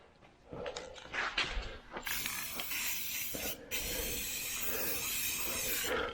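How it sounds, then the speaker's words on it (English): A spray can sprays yellow paint in long hissing bursts, a few short puffs first and then a sustained, close, steady spray, with no talking. "So it takes about 3 coats with this spray can."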